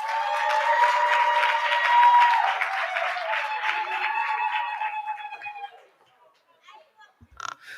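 A conference audience at a South Africa launch event applauding, with loud sustained cheering voices over the clapping for several seconds before it fades to near silence.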